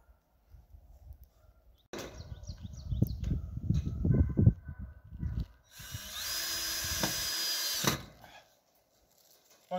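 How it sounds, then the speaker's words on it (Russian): A power screwdriver drives black self-tapping screws into sauna cladding, with several short whirring bursts and then a longer, steady high whine, close by and loud. "Пока крутим на черные саморезы, потому что что-то на метизы не купили."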